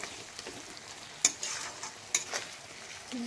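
Chicken pieces fry in a pan with tomatoes, a soft continuous sizzle with a couple of sharp pops and light stirring scrapes, fairly quiet throughout.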